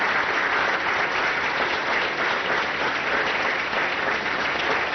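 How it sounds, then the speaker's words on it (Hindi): A crowd of farmers at an agricultural expert session claps loudly, with dense, even applause continuing steadily for about five seconds and no voices over it. "हमारे जो किसान भाई एक बार जोरदार तालियां बजाकर शुक्रिया अदा करें हमारे विशेषज्ञों का।"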